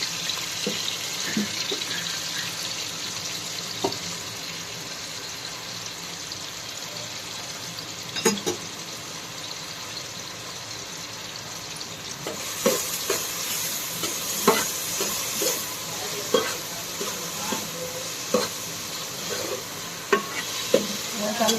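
Chopped onion frying in a pan for spicy pav bhaji with ginger-garlic paste, a steady close sizzle with intermittent scraping stir clicks that grow busier and louder in the second half.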